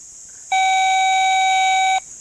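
A single steady electronic tone from a GoldXtra TGX-PRO metal detector over a gold bangle sounds for about a second and a half, loud and clear against quiet background hiss, then cuts off abruptly.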